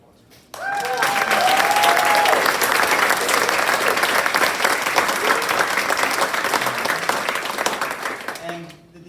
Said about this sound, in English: I'd like a big round of applause for that